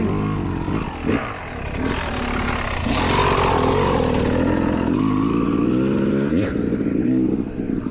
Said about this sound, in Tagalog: Ay ayusin mo na yung motor ni RJ.